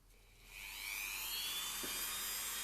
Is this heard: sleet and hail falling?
no